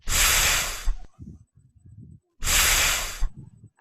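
A fox sound plays in a children's sound-guessing game: two loud, breathy hissing bursts, each about a second long, separated by softer low snorting and grunting sounds, close and alone.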